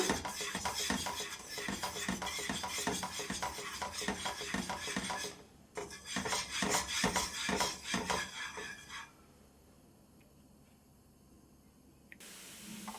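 Mysore pak mixture stirred steadily in a pan on the stove, a loud continuous scraping and clattering with a brief pause near six seconds, fading to a quieter sizzle after nine seconds with no talking.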